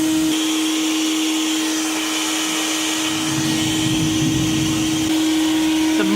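A shop vac roars loud and steady, pushing air through the exhaust of an Acura CL to find leaks, with a strong constant motor tone and rushing air throughout.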